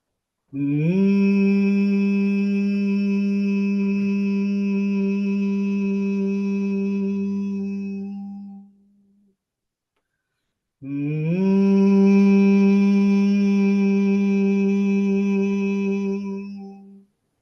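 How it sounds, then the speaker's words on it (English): A person hums one long, deep, steady tone, pauses for a breath, then hums again just as loudly and evenly. "take a deep breath, and then hum deeply and intensely"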